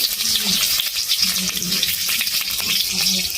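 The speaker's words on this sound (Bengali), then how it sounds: "ভালো করে নেড়ে চেড়ে ভেজে নেব" Eggplant pieces frying with salt and turmeric while being stirred, giving a loud, close, steady hiss and crackle with soft scraping of the spoon and no talking.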